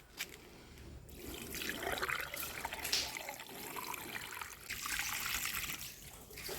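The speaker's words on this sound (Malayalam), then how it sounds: "ഇപ്പോൾ ആ ഫൂട്ട് വളവിൽ വെള്ളം ഏകദേശം ഫില്ലായിട്ടോ" Water is poured into a motor pump's foot valve while it is being replaced, a close, continuous splashing and trickling with slight surges in flow.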